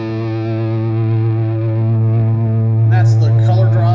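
Electric guitar through a modded Sovtek Bassov Blues Boy amp with a Color drive, a thick, gnarly distorted chord ringing out loud and sustained, with a brief burst of extra noise near the end.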